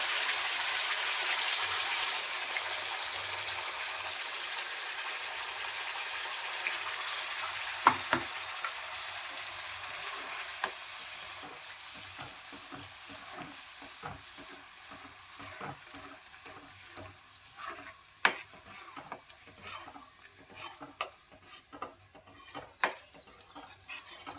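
Ground tomato and onion paste for chicken curry hits hot oil with a loud hiss that settles into a quieter bubbling sizzle, broken by repeated sharp spoon knocks and scrapes against the pan, with no talking.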